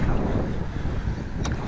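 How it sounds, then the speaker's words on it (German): Strong wind gusting on the Pacific coast of the USA, a close, rumbling buffet against the microphone with a short higher hiss near the end. "Der Wind ist nicht immer so stark."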